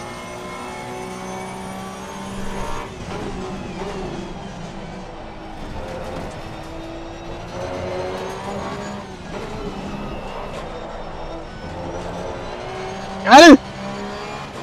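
Porsche Cup race car in Assetto Corsa Competizione at the Nürburgring 24 hours, its engine droning steadily with pitch rising and falling through gear changes, tire noise underneath, and a short shout cutting in near the end.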